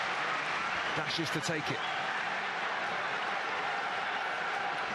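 A football stadium crowd at a youth cup final roars steadily throughout, a constant wash of cheering and noise with a commentator's voice briefly over it.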